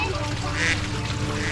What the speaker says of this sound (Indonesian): Ini bebek kan.